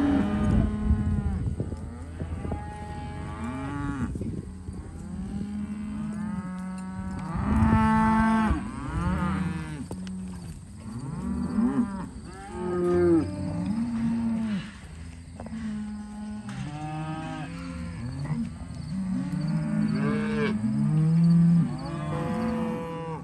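Calves and cows at a farm during vaccination day, sorted into separate groups, moo and bellow repeatedly, overlapping near and far calls with no gaps, loud and continuous.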